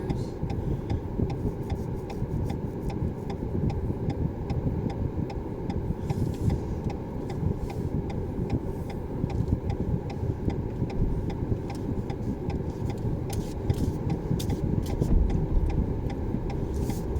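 Steady low rumble of road traffic, cars passing by on a street with a continuous engine hum and no talking.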